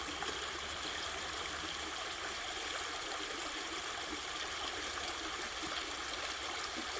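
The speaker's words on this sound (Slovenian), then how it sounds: "in slišimo ta enkraten tok bistre tekoče vode." Clear stream water flowing steadily and evenly, a continuous broadband rushing and trickling close by with no breaks and no voices.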